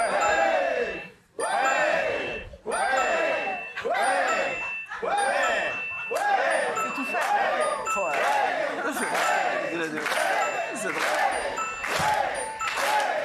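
A ringtone played again and again on a French TV show, repeating as short bright melodic bursts with brief gaps between them, likely with studio voices in the background.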